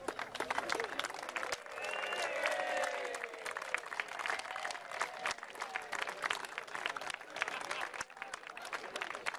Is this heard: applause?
yes